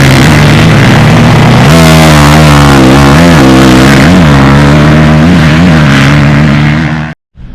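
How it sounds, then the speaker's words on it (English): A Kawasaki KX450 dirt bike ridden at Glen Helen track, its loud engine droning steadily close by, then revving up and down in repeated surges before cutting off abruptly at the end. "We're out here at Glen Helen riding the new KX450."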